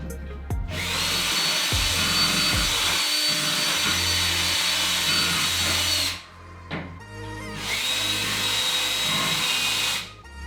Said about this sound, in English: I'm going to go ahead and hit it with a wire wheel brush real quick